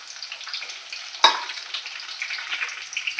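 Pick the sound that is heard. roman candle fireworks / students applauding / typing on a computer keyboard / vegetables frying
vegetables frying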